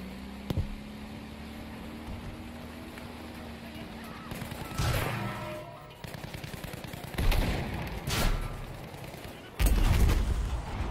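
Tank shelling a bunker in Battlefield 5 on Wake Island: several heavy cannon blasts and explosions land in irregular bursts, loud and booming over a steady engine rumble with scattered gunfire.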